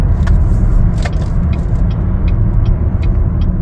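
A 2023 Chevrolet Blazer RS on the road, its loud, steady engine and tire roar continuous throughout, with a few faint ticks and clicks over the drive.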